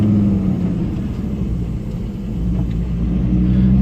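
A Volvo 850 with a blown head gasket idles with a steady, low rumbling drone, close and continuous for a few seconds, with no voices over it.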